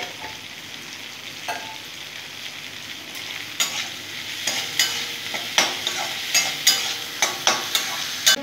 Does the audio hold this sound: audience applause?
no